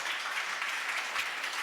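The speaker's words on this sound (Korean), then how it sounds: "박수 한번." An audience in a church-themed talk setting gives a round of applause, a soft, steady patter of many hands heard from a distance, fairly faint and even for the whole short stretch.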